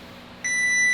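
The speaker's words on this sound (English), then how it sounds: "Alright, 2 beeps from now." Electronic timer for armwrestling training gives a steady high-pitched beep that starts partway in and holds, clear and close over a low background hum.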